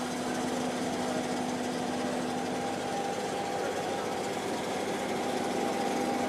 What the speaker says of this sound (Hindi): ये हमारा PTO स्टार्ट हो चुका है। ये शाफ्ट जो है वो ओपन होने लगा।